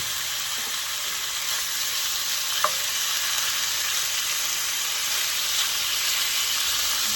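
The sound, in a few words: meat frying in hot oil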